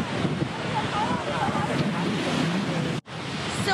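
Waves wash steadily onto Hayden Beach in Langkawi on an evening. The surf is a broad, constant rush with wind buffeting the microphone, and it breaks off for a moment near the end.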